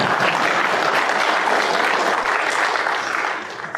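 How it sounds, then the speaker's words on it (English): An audience applauds during a political talk, giving steady, dense clapping that holds for a few seconds and then starts to fade. "As Jeb Bush would say, please clap."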